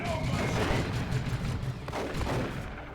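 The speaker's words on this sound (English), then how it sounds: "Just a wave of bolter fire and shotguns came in against them." Bolter fire and shotgun blasts from a Warhammer video game battle, a dense continuous barrage of rapid gunfire clatter and booms that stays loud through the whole stretch.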